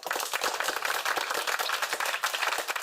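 Dense, steady applause from a small podcast studio audience, many hands clapping continuously and fairly close throughout, with no voices over it.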